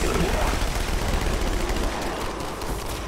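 SMG fire in Halo 2 Anniversary, loud continuous rattling bursts of automatic gunfire filling the whole stretch without pause.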